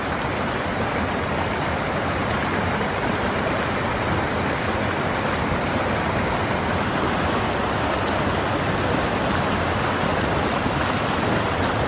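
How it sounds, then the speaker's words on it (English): Fresh mountain river water rushes steadily while scallops are cleaned, a loud, dense, unbroken flow filling the whole stretch with no voices. "use some beautiful fresh flowing water"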